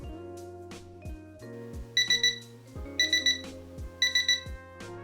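A kitchen timer alarm beeps in short bursts of rapid tones repeating about once a second, loud and close, over a steady hum.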